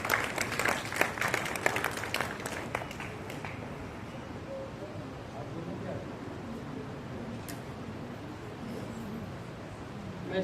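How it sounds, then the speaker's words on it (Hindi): An audience applauds a board exam topper at a school results celebration, a burst of clapping in the first few seconds that quickly thins and fades into a quiet murmuring room. "एक बार जोरदार तालियों से इस बच्चे की हौसला अफजाई करें"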